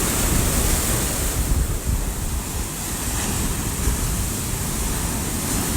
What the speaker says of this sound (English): the ocean is just so powerful, and we never see this on the Georgia coast